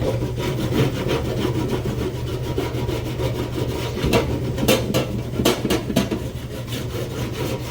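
Metal scraper rasping steadily across brass hardware, a continuous gritty scrape at close range with a few sharper strokes, no talking.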